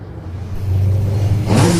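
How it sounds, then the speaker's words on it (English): Holden Commodore super saloon race car engine rumbling as it rolls into the pit lane at Silverstone during a race meeting; a loud, close, low throaty rumble that builds and swells with a brief rev toward the end. "The distinct rumble of the Holden Commodore pulling up"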